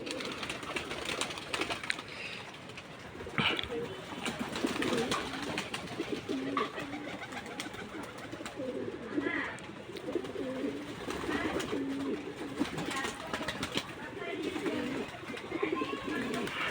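Pigeons at a loft repeatedly cooing in low, rolling calls, close and steady throughout, with someone talking intermittently over them.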